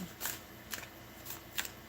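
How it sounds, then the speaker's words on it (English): Tarot cards being shuffled in four quick riffling bursts, evenly spaced, close and crisp against a quiet room. "I will shuffle on camera as well"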